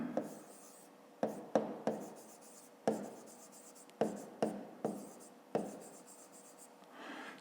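Pen or pencil writing numbers by hand on paper, a series of close, distinct taps and short strokes repeating at irregular intervals in a quiet room, with no talking.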